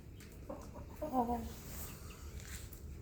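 A five-month-old young rooster gives a short run of clucks, close and moderately loud, over faint outdoor background noise.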